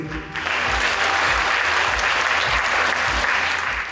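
Loud, sustained applause from an audience at a Ukrainian patriotic poetry marathon awards event, dense even clapping filling the whole stretch after a brief quieter start.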